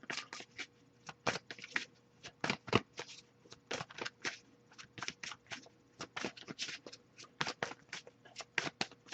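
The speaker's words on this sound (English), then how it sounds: "I'll give a few more shuffles before we wrap up" Tarot cards are shuffled over and over in quick, crisp riffling bursts, close and fairly quiet, with no talking.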